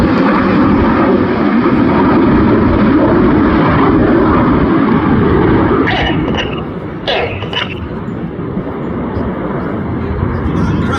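Red Arrows aerobatic jets performing a flying display at an air festival, a steady loud broadband engine roar throughout that eases slightly in the second half, with brief higher whine bursts midway.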